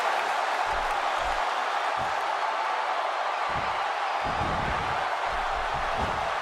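Steady roar of a wrestling arena crowd cheering during a Brock Lesnar versus Randy Orton match in the WWE 2K16 video game, loud and continuous with scattered low thumps beneath.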